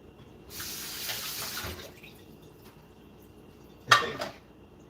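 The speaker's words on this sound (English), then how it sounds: "Put a little water in there too." Tap water runs into a sink for about a second, then stops, with a brief clatter of dishes afterward in a quiet room.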